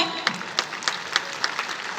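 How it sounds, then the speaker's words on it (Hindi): Brief clapping from an event audience, moderately loud and evenly paced, with individual claps standing out sharply over a dense patter. "जोरदार तालियां हो जाएं"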